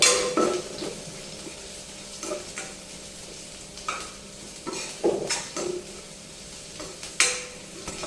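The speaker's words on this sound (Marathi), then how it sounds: "कांदे व्यवस्थित मिक्स करून घ्यायचं आणि तेलामध्ये छान असा आपल्याला कांदा शिजवून घ्यायचा आहे" An onion is stirred and cooked in oil in a pan, with soft sizzling underneath repeated scraping and clinking strokes of a utensil at an irregular pace, close and fairly quiet.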